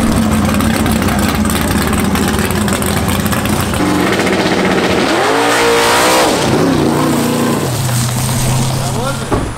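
A 2022 COPO Camaro drag car with a 572 engine roars and revs hard at an NHRA drag strip, the pitch climbing and dropping as it accelerates, with a steady high engine drone underneath.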